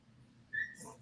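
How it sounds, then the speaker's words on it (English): A dog gives a single short, high yelp partway through, fairly faint against a quiet indoor background. "My dog just yelped."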